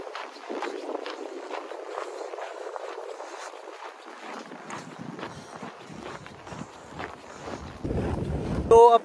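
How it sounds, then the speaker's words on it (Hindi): A strong, cold wind roars steadily past the microphone near an icy bridge crossing, with a constant rushing buffet that swells and eases. A few scuffing steps come through near the end. "हवा चल रही है बहुत तेज"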